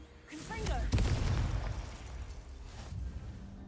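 The Confringo blast spell in Hogwarts Legacy lands as a sharp explosive burst with a heavy boom, and a crackling, rumbling tail fades under a voice speaking.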